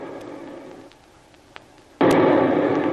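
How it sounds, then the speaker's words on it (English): A torpedo explosion in a radio drama lands as a sudden loud, broadband blast after a quieter stretch, then roars on steadily to the end. "That was a torpedo."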